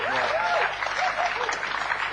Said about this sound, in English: Big round of applause for Ryan